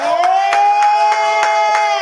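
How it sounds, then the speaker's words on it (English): An audience claps in a steady rhythm while a sustained, tonal cheer or whoop rings over the crowd, loud and close, at a talk show welcoming a Chicago historian guest. "y'all need to start clapping now"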